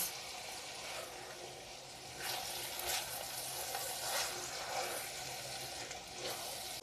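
Vegetables stew in a pan with a steady soft sizzle, broken by several scraping stirs of a spoon, quiet and close with no talking.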